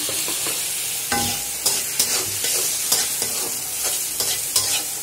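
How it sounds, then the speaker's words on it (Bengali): Green chilies frying and being stirred in a pan: a loud, continuous sizzle broken by repeated scraping and clattering stirring strokes, close up, with no talking. "এর মধ্যে কাঁচামরিচ দিয়ে দিলাম।"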